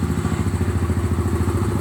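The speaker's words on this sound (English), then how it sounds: "Very, very basic, very simple single cylinder exhaust sound" A Voge Rally 300 single-cylinder 300cc adventure motorcycle idles with a steady, rapid, even thumping beat from the exhaust, heard up close and loud without any voices.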